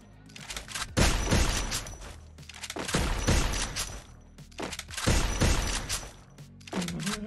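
Rapid bursts of M1014 shotgun fire in the Free Fire battle game, three or four loud blasts spaced about two seconds apart, each with a sharp crack and booming tail, with no talk over them.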